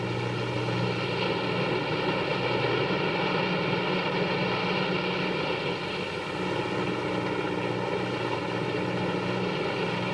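Propeller airplane engines drone steadily in flight in the 1959 film Killer Shrews, a loud, constant harmonic hum from close inside the aircraft that holds evenly for ten seconds with no talking.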